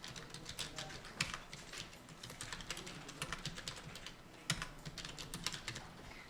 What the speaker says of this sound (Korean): 적어 볼게요.